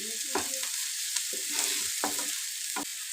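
Garlic and onions sizzle steadily in a hot pan, with several distinct spoon scrapes and stirs breaking through the continuous frying hiss; no talking.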